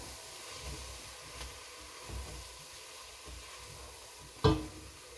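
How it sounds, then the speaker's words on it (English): Brussels sprouts with a little smoky seasoning fry in a pan with a faint, steady sizzle, broken by one sharp knock of the stirring utensil near the end. "Give this a stir."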